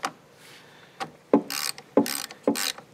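A ratchet with a 10 mm socket tightens a car battery terminal on a 2013 Chevy Malibu, giving three close, short bursts of rapid clicking after a couple of light taps.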